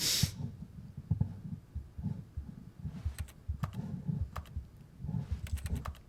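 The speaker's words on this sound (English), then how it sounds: "Everything I interact with clicks like a keyboard." Keyboard-like clicks while interacting with objects in the Stanley Parable video game: scattered sharp taps over a low, murmuring background, close and moderately quiet, with no voices.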